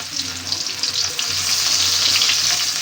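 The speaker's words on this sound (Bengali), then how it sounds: "পেঁয়াজটা একটু ভেজে তারপর আলুগুলো ভেজে নেব।" Onions sizzling in hot oil in a home kitchen, a steady close crackle that grows slightly louder and denser after the first second, with no talking.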